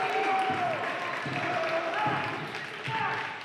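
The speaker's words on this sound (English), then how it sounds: "Nice ovation from the crowd." A crowd at a high school boys basketball game applauds and cheers after a three-pointer, a sustained broad wash of clapping and voices in a gym with squeaks and bounces over it, a commentator talking throughout.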